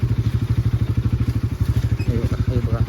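A Bajaj Pulsar NS200 motorcycle ridden along a rough off-road track in Kokan, its engine thumping in a fast, steady pulse close by, with a voice briefly heard over it near the end.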